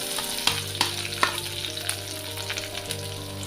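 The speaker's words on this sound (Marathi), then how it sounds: "तेल गरम झालेलं आहे. आता आपण आले लसूण टाकूया." Ginger and garlic drop into hot oil for a street-style veg momo stuffing, giving a steady, close sizzle with a few sharp spatters and clicks over a low hum.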